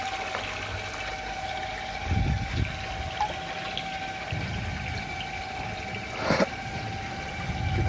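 Water pours steadily into the filter chamber of a backyard koi pond, a continuous near rushing and gurgling with a pump hum underneath, briefly surging louder toward the end; no one speaks.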